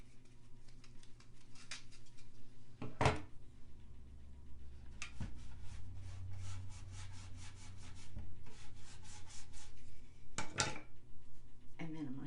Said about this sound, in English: And then we just smooth it out with a brush.